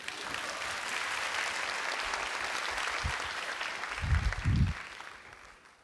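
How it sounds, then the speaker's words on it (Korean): A conference audience at SDF2013 applauds a Hyundai self-driving car demonstration with a sustained, even round of clapping, joined by a few low thumps near the end. "이때 박수 치셔도 됩니다."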